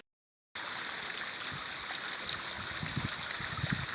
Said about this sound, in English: Love this cute little waterfall.